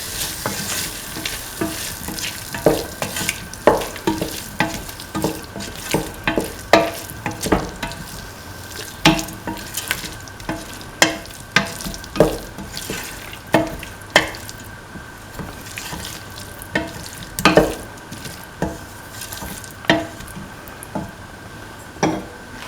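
A mint cottage cheese and coconut milk stew is stirred in a sizzling pan, with repeated scraping strokes and clacks of the utensil over a constant close frying hiss.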